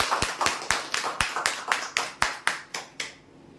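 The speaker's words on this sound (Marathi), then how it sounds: "जोरदार टाळ्या होण्यासाठी." A dozen or so sharp hand claps from an audience at a prize draw, fairly even in rhythm, close and crisp, with no voices over them.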